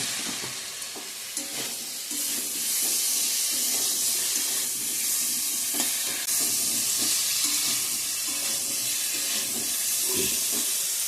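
Potatoes and cauliflower fry with spices in a pan, giving a steady close sizzle and hiss with occasional scraping stirs and clinks, and no voices.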